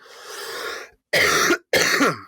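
Three close, raspy bursts of coughing and throat clearing, a longer hack followed by two shorter ones with brief pauses between.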